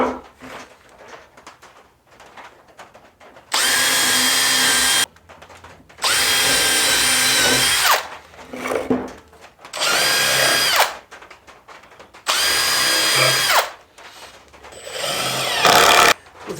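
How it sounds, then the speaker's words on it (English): A power drill pre-drilling yellow pine whirs in four or five separate bursts of a few seconds each, close and loud, with quiet pauses between them. "So I'm just going to pre-drill these to help them keep from breaking and splitting."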